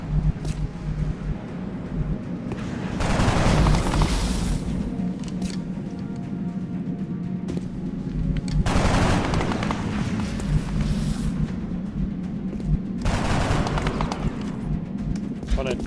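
Bursts of automatic gunfire from the strategy game XCOM: Art of War come in three loud, sustained volleys, close and heavy, with a low rumble and a voice talking underneath.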